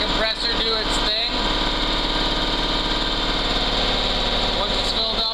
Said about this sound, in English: I'm gonna let the compressor do its thing